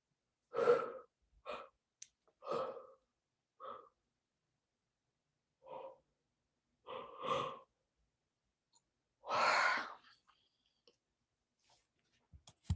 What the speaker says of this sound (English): Breathe it in.